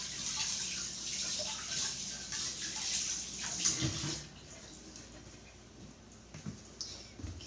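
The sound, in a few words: rinsing hands under running water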